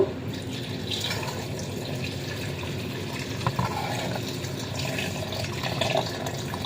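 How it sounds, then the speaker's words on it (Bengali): Water is poured into a homemade cocktail juice mix, a soft, steady trickle and splash with small drips, close and fairly quiet throughout. "পানি অ্যাড করে দিলাম"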